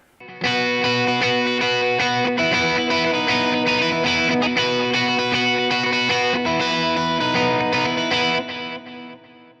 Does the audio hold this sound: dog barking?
no